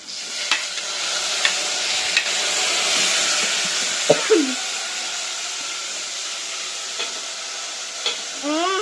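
Tomatoes sizzle steadily in a hot pan, a continuous frying hiss with occasional stirring clatter and faint background sounds.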